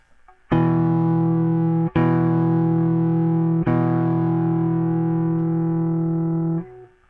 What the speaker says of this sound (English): So doing that, I can tame the distortion.